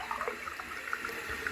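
Water runs hard from a fully opened tap into a bathroom drain, a steady close rushing splash with small bubbling gurgles throughout.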